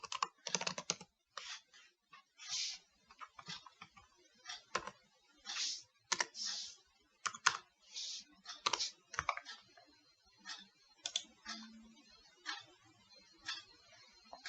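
Code being typed on a computer keyboard, bursts of crisp close key clicks in irregular clusters separated by short pauses in an otherwise quiet room.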